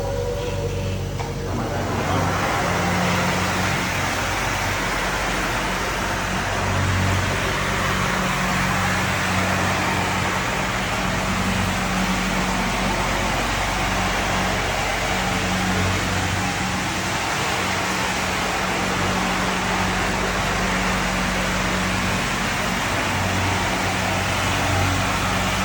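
Floor scrubber running its brush, water and suction together, a loud, steady mechanical drone with a constant hum that starts up in the first seconds and holds unchanged throughout.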